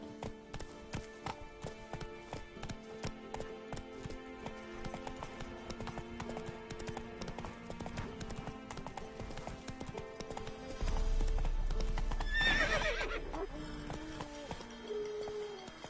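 Hooves clip-clop in a quick gallop in The Witcher 3, a steady drumming rhythm with a horse neighing briefly near the end, under soft game ambience and faint birdsong.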